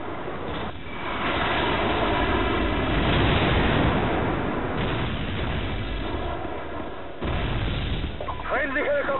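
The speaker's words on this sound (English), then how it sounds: "Friendly airstrike on the way!" Heavy, rumbling airstrike explosions roll on continuously, booming close and loud in Call of Duty: Modern Warfare Reflex. A voice briefly cuts in near the end.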